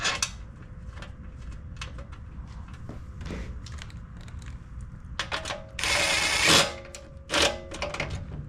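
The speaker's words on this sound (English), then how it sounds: "We still got to bolt that fuel pump back to the housing there." Ratchet work while bolting a fuel pump back onto the housing of a Coleman Powermate Powerbase 5000 generator: a quiet run of short, rapid metallic clicks with bursts of louder clatter toward the end, close by.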